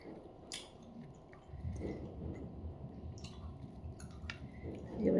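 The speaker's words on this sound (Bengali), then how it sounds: "খাচ্ছি রুটি আর মাছের ঝোল এই আলু দিয়ে মাছ দিয়ে ঝোল" Roti and fish curry with potatoes being eaten at night, soft close chewing and wet squishing mouth sounds, quiet with a few brief clicks and a louder bite near the end, no talking.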